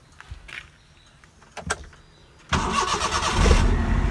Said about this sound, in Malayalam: ഇത് സ്റ്റാർട്ട് ചെയ്താണ്ട് സൗണ്ടും കാര്യങ്ങളും കാണിച്ചു കേട്ടോ